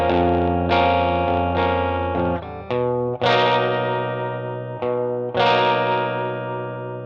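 Distorted electric guitar strums a main chord progression, sustained chords with chorus and effects, rhythmic re-strikes and brief gaps, loud and close with no voices.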